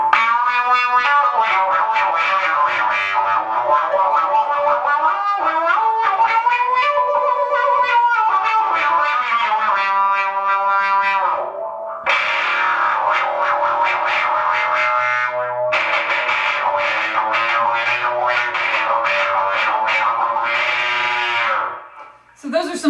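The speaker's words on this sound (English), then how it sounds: "This is my wah sound." An electric cello played through a wah pedal produces sustained bowed notes with a sweeping, vocal-like filter that opens and closes, giving a distorted, bleating quality, with brief breaks between phrases.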